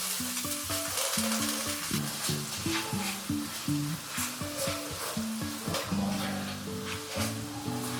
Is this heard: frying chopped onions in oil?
yes